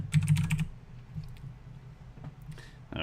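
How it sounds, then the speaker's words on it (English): A short burst of computer keyboard typing opens, entering items into a modded Minecraft AE system, with a few quiet clicks afterward and a brief louder tap at the end. "So let's type that in here."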